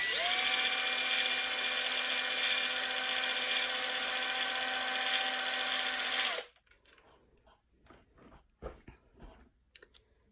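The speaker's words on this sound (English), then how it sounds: "I just take a drill, tiny little drill, and I find a place to kind of hide, and I drill a hole" A small high-pitched drill whines steadily and loudly for several seconds boring a hole in a shaker keychain, then stops, leaving faint scattered clicks and handling noises.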